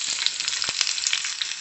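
Garlic, mint and other chutney ingredients sizzling steadily in hot oil, a close, even frying hiss with small pops and a few stirring knocks, no voices.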